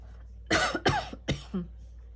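A dry-throated cough in a quiet room, three or four short harsh bursts in quick succession followed by a softer throat-clearing rasp, close and alone.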